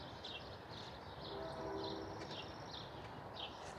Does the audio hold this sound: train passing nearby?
yes